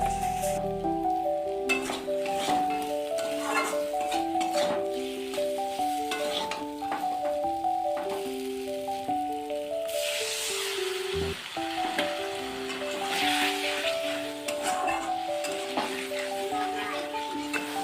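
Spiced masala with salt and two green chillies frying in a pan for a Bengali pomfret fish curry gives a soft, continuous sizzle beneath a melodic background music track.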